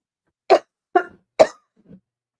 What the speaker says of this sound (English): while I have a coughing fit.